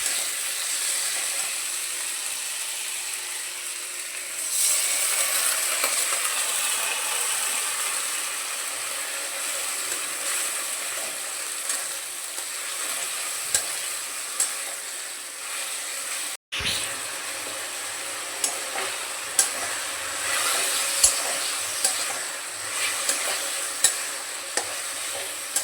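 Spice paste for Bengali mutton kosha frying and being stirred in a pot, a steady sizzle that turns louder partway through, with light scraping and occasional utensil clicks, no speech.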